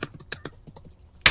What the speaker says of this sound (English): Oh, that's your keyboard.